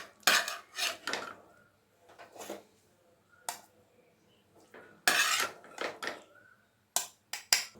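Steel utensils clink and scrape against a mixer jar as cooled brinjal chutney mixture is spooned in, a series of close, irregular metallic knocks and rattles with brief quiet gaps.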